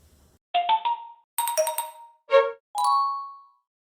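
A series of electronic notification chimes and dings plays in quick bursts, each a bright tone, with short gaps and no speech.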